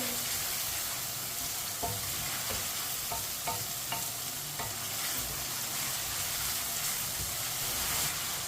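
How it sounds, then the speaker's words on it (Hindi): Chicken and pumpkin masala frying over medium heat, stirred with a spoon: a steady, close sizzle runs throughout with a few soft scraping knocks of the spoon against the pan, and no talking. "मीडियम आंच पर इसे 3 मिनट के लिए पका लेंगे चम्मच चलाते हुए।"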